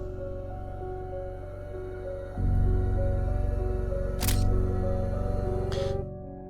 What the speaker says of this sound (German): Ich mache mal ein Foto davon, ne?